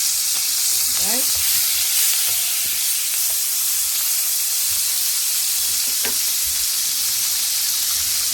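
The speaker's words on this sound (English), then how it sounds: "I'm going to add the garlic and the rosemary." Garlic and rosemary sizzling in butter in a hot pan for T-bone steak, a steady loud frying hiss throughout with a few faint clinks of utensils.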